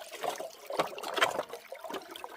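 River water flows through a gold sluice set in the stream, a soft, close trickling and gurgling with small irregular splashes over a couple of seconds.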